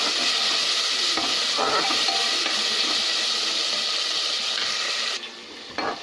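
Chopped tomato frying in a pan over the stove, giving a loud, steady sizzle and hiss with occasional stirring scrapes, which drops away sharply near the end.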